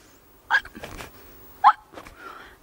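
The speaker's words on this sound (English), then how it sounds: "Hey, I've got the hiccups." A sharp hiccup sounds twice, about a second apart, each short and abrupt over a quiet background with faint rustling between.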